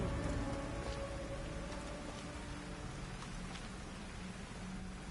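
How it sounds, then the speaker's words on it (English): Steady storm rain in a video game pours down continuously, a dense close hiss with scattered patters and faint low rumbles, with no voices over it. "A storm is coming."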